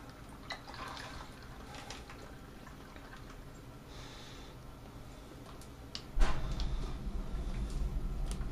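Wine kit concentrate for a Fontana Merlot poured into a primary fermenter: a quiet room with faint drips, then a sudden heavier, steady pour of thick liquid that carries on to the end.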